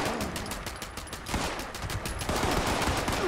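Rapid gunfire from a weapon in the video game Fallout 76, dense bursts of shots running almost continuously and growing louder in the second half, with no talk over it.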